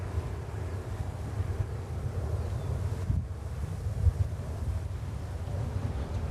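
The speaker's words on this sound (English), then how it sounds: "Just a little bit windy, but we don't want to complain about that one" Steady wind buffeting the microphone at JFK Airport, a dense low rumble that holds the whole stretch with slight gusting surges, close and continuous, with no talking.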